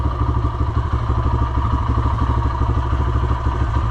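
Rebuilt dirt bike engine idling after a fuel screw adjustment, a loud, close, steady rapid thumping putter with a metallic clatter, running evenly without revving.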